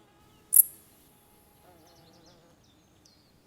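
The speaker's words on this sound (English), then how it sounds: "The dark bush cricket is often the last cricket we hear after all the others have already died" A dark bush cricket chirps in a forest clearing in the mountains late in the season, with faint, sparse, scattered calls in near-silence, broken by a brief sharper click.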